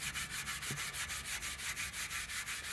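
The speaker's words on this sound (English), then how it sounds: "So what you want to do is you want to just wet it down a little bit, and then you just scrub it." Steady back-and-forth scrubbing of a tractor part with a wet fine abrasive pad, even rhythmic rasping strokes, close and moderately loud with no talk.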